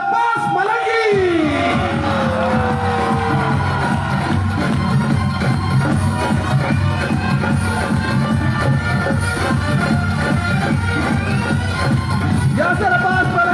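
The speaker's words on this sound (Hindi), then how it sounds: "मैं आपसे रिक्वेस्ट करूंगा कि तालियां नहीं रुकनी चाहिए" A live crowd at a musical night in Kuwait greets comedian Yasir Abbas Malangi with sustained, loud applause mixed with cheers and hubbub, continuous throughout with a voice briefly heard at the start.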